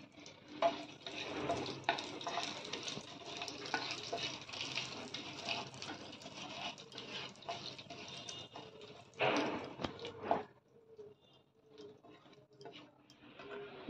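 Whole cumin, cloves, cardamom, cinnamon and a torn bay leaf frying in hot oil for a Bengali prawn curry, a steady close sizzle with stirring scrapes, a louder burst near the end, then quieter crackles.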